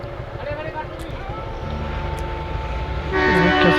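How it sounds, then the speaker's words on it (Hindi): A train on the heritage hill railway near Chamba Ghat between Chail and Solan rumbles past, heard as a steady low roar that grows louder toward the end, with wind and vehicle noise around it. "और जी ये रही ट्रेन"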